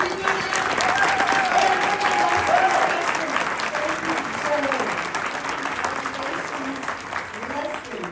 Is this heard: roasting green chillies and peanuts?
no